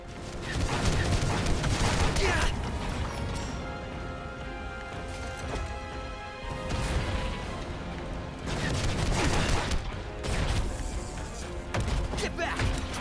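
Grenade blasts and bursts of gunfire in the Final Fantasy XV video game, loud explosive crashes and rattling volleys coming in waves over several seconds.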